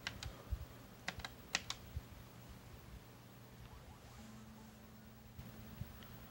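Keys tap on a Famicom keyboard, a handful of sharp, quiet clicks in small clusters over a low background hum, thinning out to near silence midway.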